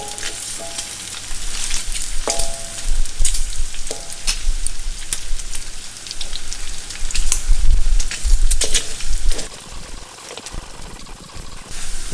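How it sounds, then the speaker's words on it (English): Pork fat sizzling and rendering into lard in a wok, a steady loud frying crackle with periodic scraping and clanking of a stirring utensil against the metal. "you have to keep on stirring because otherwise the fat will stick to the wok lah. But already the oil is starting to render out"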